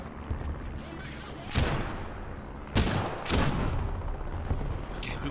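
ZSD63/PG97 self-propelled anti-aircraft gun in War Thunder letting off a couple of loud bursts of fire, each a sharp boom with rumbling tail, over steady engine and battle noise.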